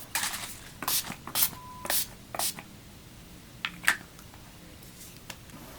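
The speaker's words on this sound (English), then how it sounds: "Sometimes I like to spray my face" Several short, sharp hissing sprays of Urban Decay All Nighter setting spray misted onto a face in quick bursts, close and fairly quiet, with faint handling noises in between.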